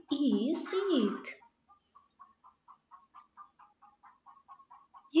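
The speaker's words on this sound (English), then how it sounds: "Yes, it is a hen." A hen clucks in a quick run of short, evenly spaced clucks, fairly faint and alone, right after a burst of speech and just before more talking begins.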